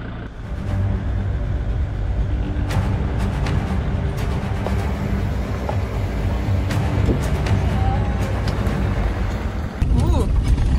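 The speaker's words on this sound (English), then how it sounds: "So we're on a pretty bumpy road" A car drives down a bumpy off-grid wilderness road, a steady rumbling interior roar with rattles and jolts throughout, close and continuous, while people talk over it.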